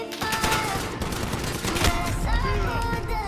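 Rapid automatic gunfire in a shooter video game, a dense continuous burst of shots with overlapping game effects, loud and close, lasting a few seconds.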